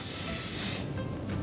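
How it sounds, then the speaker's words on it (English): Cooking oil is sprayed into a bowl from a spray can while preparing bread dough, a short close hiss that fades, heard alone. "spray some oil"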